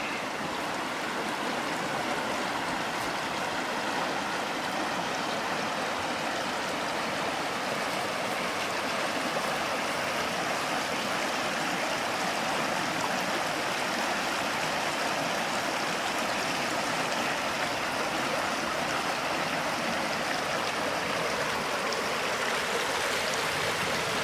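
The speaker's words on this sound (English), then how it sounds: "we're right here at the falls now. Show you guys that." River falls at Landsford Canal roar steadily, a dense, unbroken wash of rushing water heard close for the full length with no break or voices.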